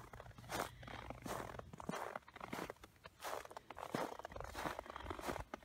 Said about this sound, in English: Crunching under my feet.